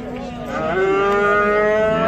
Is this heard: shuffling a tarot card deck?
no